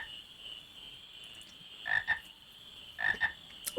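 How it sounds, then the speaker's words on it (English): Frogs croak in the Final Fantasy IX video game, two clusters of short bursts standing out against a steady high whine of background ambience, each cluster a quick double croak. "Wait, you can't just chase after frogs, Kena."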